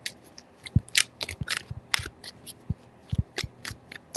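Tarot cards riffled and shuffled by hand, a run of short papery flicks and soft taps in quick irregular bursts, close and fairly quiet, with no talking.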